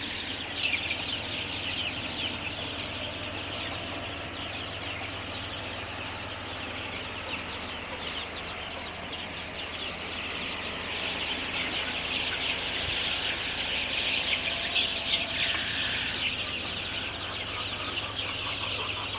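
Sonali chicks gather at a water drinker, filling the space with a dense, continuous chorus of high, thin peeping that holds steady throughout with no voices.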